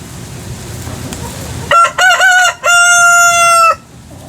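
Backyard chickens feeding on weeds give a loud, close rooster crow in several harmonic bursts, preceded by soft background rustle.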